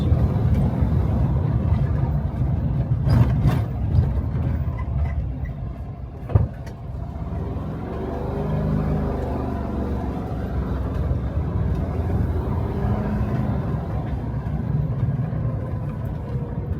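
A VW vehicle driving on an East Texas road gives a steady low rumble of engine and road noise from inside the cabin, with a brief click partway through and no talk.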